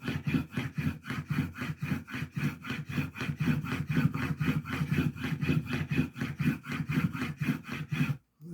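A chisel honed on a sharpening stone, steady rapid back-and-forth rasping strokes close by, dozens in a row with an even rhythm, ending abruptly with a brief silence.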